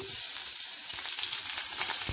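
Chopped tomatoes hit hot oil for a tengra fish curry, giving a bright, continuous sizzle close by with no voices.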